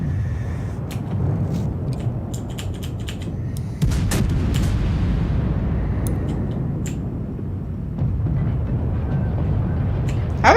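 Naval gun fire in World of Warships, sharp repeated reports over a continuous low engine and sea rumble, with a louder blast around the middle and more scattered shots later.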